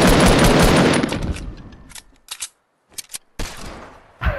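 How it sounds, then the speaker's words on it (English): Rapid gunfire from a video game, a dense burst of shots at the start that fades into scattered single cracks and short bursts separated by silence. "hand cannon time"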